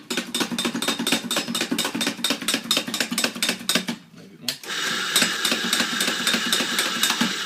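A professional coffee machine's grinder running for a double espresso shot, first a rapid rattling whir, then a brief pause and a steadier continuous grinding hum, close and loud.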